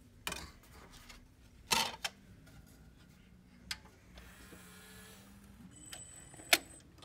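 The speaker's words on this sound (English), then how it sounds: "It's a bit of a noisy player in terms of the motor" An Esoteric K-03 SACD/CD player's disc motor spins up, a low steady whir running under scattered mechanical clicks and ticks from the transport, with a faint rising whine near the end; close and quiet, no voices.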